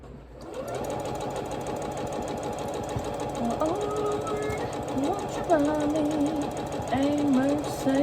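A sewing machine stitches quilt pieces for a Lori Holt Home Town quilt block, running in a steady rapid mechanical chatter while a voice sings along over it.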